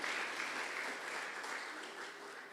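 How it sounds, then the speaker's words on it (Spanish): A church congregation claps in steady applause, dense and even, fairly faint and distant, with no voices over it. "Dale un aplauso al Rey de Reyes y Señor de Señores"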